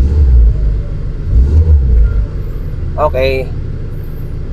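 A Subaru Forester with a battery that keeps going flat idles steadily after starting, its engine warming up in a close, low, even rumble while a person says a brief word over it.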